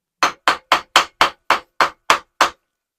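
A hammer taps a ring off a Japanese hoop setting tool in nine sharp, evenly spaced metallic knocks, close and loud, with silence between each strike.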